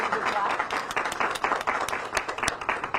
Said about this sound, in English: Everybody deserves a good clap.